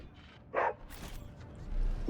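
A cyber mastiff in Warhammer 40000: Rogue Trader gives a few short, close barks and yips with quiet gaps between them.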